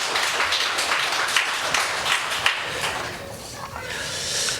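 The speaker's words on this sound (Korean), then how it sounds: "하나님께 영광의 박수로." Korean church congregation gives a round of applause, a loud, dense burst of clapping that begins to thin out toward the end, with voices mixed in.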